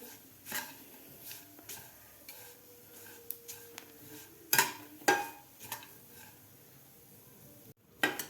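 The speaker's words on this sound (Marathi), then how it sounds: "सुको खोबरंसुद्धा थोडासा असा तांबूस कलर होईपर्यंत आपल्याला ह्या शेंगदाणे आणि तिळाबरोबर व्यवस्थित भाजून घ्यायचं आहे तेलामध्ये" Dry coconut roasting in oil in a pan with peanuts and sesame seeds for a spicy chutney, with faint sizzling under a series of sharp spoon scrapes and clinks against the pan, no talking.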